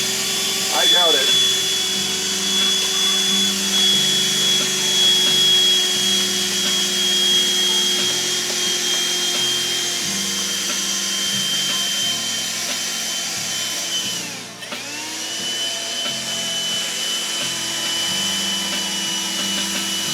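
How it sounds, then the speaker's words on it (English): A small vacuum cleaner runs steadily and close for the whole stretch, with a constant whine and hum that dips briefly once midway before carrying on. "I don't think I'm going to be able to get all this with my little vac."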